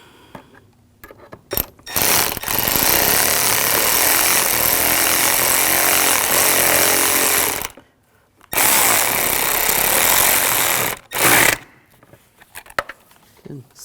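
Ratcheting work on a clamp in the engine bay of a 2007-2013 BMW 328i 3.0L inline-six: loud, dense mechanical bursts of ratchet clicking, two long runs and a short one, separated by near-silence.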